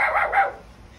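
A dog gives two quick barks, close and fairly loud, then falls silent.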